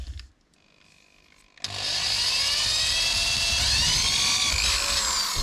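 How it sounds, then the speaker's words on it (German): A power drill bores holes for a homemade bicycle GoPro mount, starting after a quiet moment with a sudden high whine that holds steady and loud, its pitch wavering slightly as it cuts through. "Let's drill it!"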